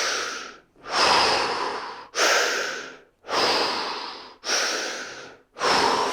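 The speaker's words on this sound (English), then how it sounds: "Breathing in." A person breathes in and out rhythmically during a core fascial exercise, five strong, close airy breaths in a steady cycle with short pauses between them.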